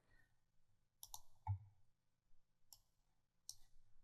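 A computer mouse clicks during a software tutorial: a few sharp, quiet clicks, some in quick pairs, spaced out over otherwise near-silent room sound.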